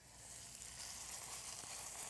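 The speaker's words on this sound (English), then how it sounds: "And we're just going to brown this tenderloin" Pork tenderloin browns in hot avocado oil in a pan, giving a steady, close, hissing sizzle that holds evenly and stays fairly quiet with no talk over it.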